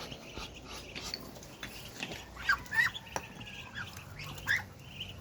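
Ducks calling on a small Philippine farm where ducks and rabbits are raised, a few short squawky quacks rising at moments over a murmuring outdoor background with no talk.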